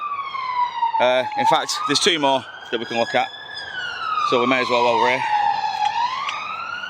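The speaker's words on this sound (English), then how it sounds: "Sorry about the sirens." Emergency vehicle sirens wail nearby outdoors at a riverside mudlarking site, a loud rising and falling tone sweeping steadily underneath someone talking throughout.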